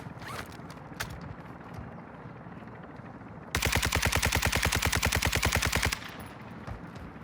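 A machine gun in the video game Warzone 2 fires one sustained, rapid burst lasting a couple of seconds, loud and evenly paced, set against quieter game background sound.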